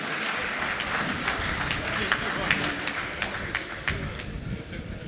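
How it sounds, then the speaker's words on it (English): An audience at a book presentation and graduation lecture claps for a dignitary, a dense, fairly close crowd applause with scattered sharper claps standing out, sustained the whole time. "may we give a round of applause to the DG"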